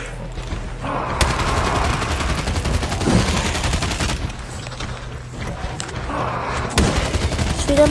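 Zombies-mode gunfire in Call of Duty Mobile, rapid bursts of shots crackling in clusters over a game soundtrack, fairly loud and continuous across the stretch.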